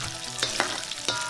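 Diced pork fat fries in a hot wok with a steady close sizzle, broken by a few brief scraping stirs, and no one speaks.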